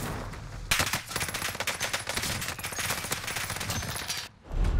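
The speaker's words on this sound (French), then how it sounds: "Je suis tombé sur un gars qui a une NZ à rafale." Burst-fire shots from an NZ gun in Warzone Caldera: rapid, loud, continuous bursts of gunfire crackle for about four seconds, then stop abruptly.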